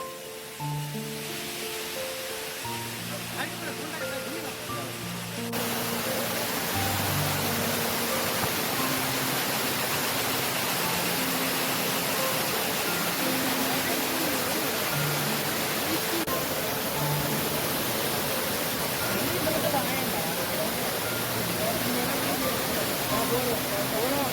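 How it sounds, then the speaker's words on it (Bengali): Elephant Falls waterfall in Meghalaya, a loud, constant broadband roar of falling water close by, with a voice talking over it at the start. "পিছন দিকে ঝর্ণা আছে ঝর্নার প্রচুর সাউন্ড"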